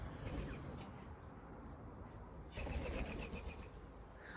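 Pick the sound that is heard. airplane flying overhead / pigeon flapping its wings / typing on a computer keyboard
pigeon flapping its wings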